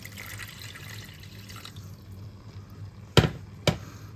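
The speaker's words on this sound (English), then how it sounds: "I'm going to go ahead and add a little more water." Water is poured from a tap into a pot of spaghetti cooking in sauce with beef shanks, a soft running flow followed by two sharp splashy clatters close by.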